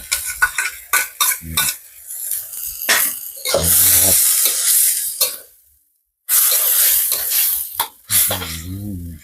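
Canned fish and banana blossom being stir-fried in a pan, heard as bursts of loud sizzling and hissing with metal spatula scrapes and clatter against the pan. Brief silences break it up, and a short voice is heard.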